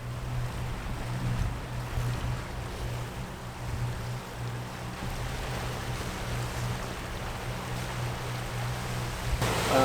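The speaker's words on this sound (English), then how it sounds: "The waves are up to 2 meters high" Ocean waves up to two meters high wash around a Lagoon 46 sailing catamaran, with a steady low rush of water and wind, continuous and fairly close, swelling slightly toward the end.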